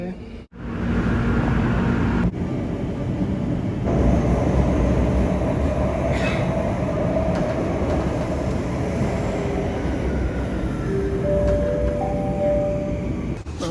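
A Singapore MRT metro train rolls along the line, a loud steady rumble heard from inside the carriage, with brief electronic tones near the end.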